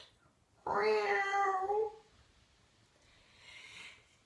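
A person's voice mimics a cat's meow at a farmyard-themed kids' yoga session, one drawn-out harmonic meow lasting over a second, followed by a faint breathy sound.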